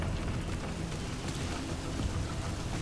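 Steady, dense video-game rain hiss in Metal Gear Solid V with a low rumble underneath, continuous and enveloping, no voices.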